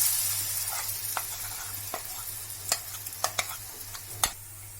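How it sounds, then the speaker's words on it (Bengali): Chana dal paste frying in oil with a pinch of black cumin, a steady close sizzle broken by several sharp scraping stirs of a spoon against the pan. "দিয়ে দিচ্ছি তেল, দিচ্ছি সামান্য কালো জিরে, এর মধ্যে দিয়ে দিচ্ছি যে পেস্ট করে রেখেছিলাম সেই ছোলার ডালটা"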